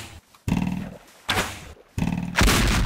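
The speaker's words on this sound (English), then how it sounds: "The gun sound makes it so much more amusing and man-like" Gunfire from the Needs Moar Gun mod in Minecraft: three loud, sharp blasts spaced under a second apart, each with a heavy low-end body and a short decaying tail, plus a fourth burst rising at the end.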